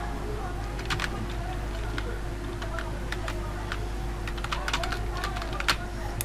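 Fast clicking of computer-keyboard typing, a run of light irregular keystrokes close by over a steady low electrical hum, entering a home district into an online job application form for a metro rail post.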